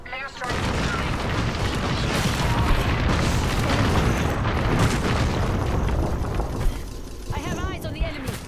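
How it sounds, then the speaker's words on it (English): Airstrike explosions in the battle royale game Apex Legends: a long, dense barrage of heavy booms and rumbling blasts, loud and continuous, with faint voices beneath before it thins out near the end. "Airstrike is coming."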